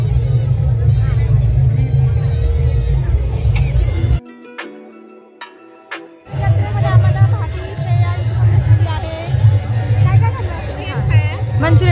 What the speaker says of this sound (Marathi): खाण्यासाठी भरपूर गर्दी आहे.